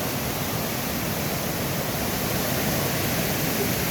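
Mt. Maarat Falls in San Mateo, Rizal, a dense, steady roar of falling water filling the whole short stretch at close range.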